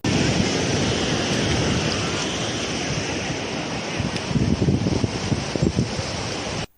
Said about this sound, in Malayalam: ഇവിടെ ഇതാ കടലിലേക്ക് വെള്ളം നീർച്ചാൽ പോലെ ഒഴുകിപ്പോകുന്നു